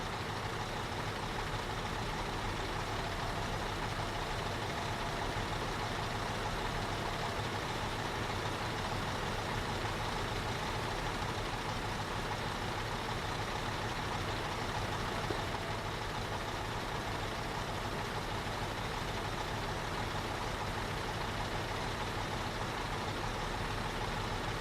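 A truck engine in the video game Construction Simulator 2015 runs as a steady, unbroken rumbling drone that holds an even loudness throughout, with no talking.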